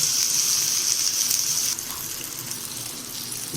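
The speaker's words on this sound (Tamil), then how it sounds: "கொஞ்சம் எண்ணெயும் மீன் மேலே ஊற்றி விட்டுக்கலாம்." Oil poured over fish frying in a banana leaf makes a steady, close hissing rush that drops to a softer, even sizzle partway through.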